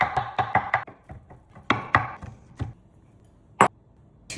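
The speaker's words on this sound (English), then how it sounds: "Finely chop." A knife finely chopping de-stemmed shiitake mushrooms on a board: a quick burst of close, crisp chops at first, then slower scattered strokes, with one last sharp chop near the end.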